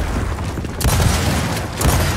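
A frag grenade explodes in Gears of War 4 amid continuous loud, dense battle noise, with heavy booming surges near the middle and again toward the end.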